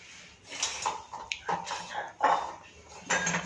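A spoon stirring roasted gram into hot ghee-cooked sooji lapsi in a metal pan, with several bursts of scraping and clinking metal at close range, separated by brief pauses.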